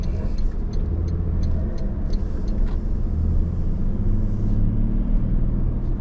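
Toyota GR Sport car with a small, zippy engine driving around a corner, heard as a steady loud engine rumble and road noise throughout, no talk.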